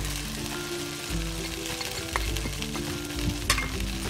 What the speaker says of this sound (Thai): ท้ายผัดให้เข้ากันอีกรอบค่ะ